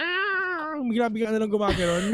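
A commentator at a VALORANT Masters esports broadcast imitates fighting cats yowling on a roof, making a loud, close, wavering whine that slides downward and then breaks into speech.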